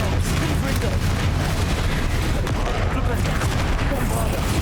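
Confringo blasting spells from a Hogwarts Legacy duel: dense, continuous loud blasts and crackling impacts without a break, game combat noise layered with a voice in the mix.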